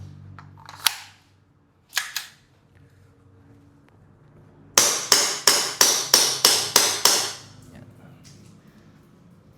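An airsoft CZ Shadow pistol, said to match the weight of the real steel CZ, fires two separate shots. A rapid string of seven sharp, evenly spaced cracks follows, close and loud. A voice speaks briefly.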